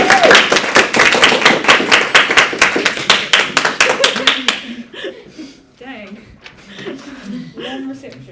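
An audience at a debating nationals round claps rhythmically and loudly for several seconds, then the applause stops abruptly and a few voices chatter and laugh nearby.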